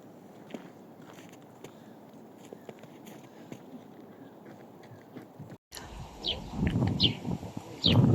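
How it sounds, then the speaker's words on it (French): Birds sing faintly by a lake in Moscow in spring, a few short chirps heard over footsteps and outdoor walking noise, growing busier near the end. "Il y a des oiseaux qui chantent."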